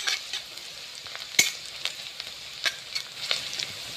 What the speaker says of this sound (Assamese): ৰংচোৱা হোৱালৈকে মই ভাজি লওঁ পিঁয়াজখিনি